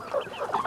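Chickens on a farm giving a few brief, soft clucks, close by but faint, with no voices.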